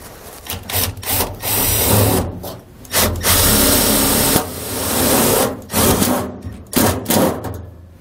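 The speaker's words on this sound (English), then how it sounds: "we're just going to take some self-tapping screws and attach the circuit breaker" A power driver sinks self-tapping screws to mount a circuit breaker on a 2020 Jayco Pinnacle fifth-wheel trailer, giving several loud bursts of whirring with short gaps between them.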